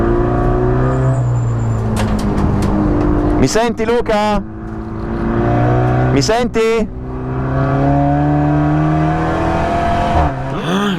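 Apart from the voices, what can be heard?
race car engine at speed, recorded from helmet GoPro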